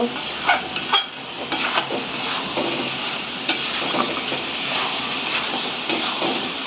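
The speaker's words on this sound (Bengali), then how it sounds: "এবার এটাকে ভালো করে কষিয়ে নেব" Jackfruit seeds being stir-fried in a pan, with steady sizzling under repeated scrapes and clinks of a spatula against the metal, close and fairly loud, no talking.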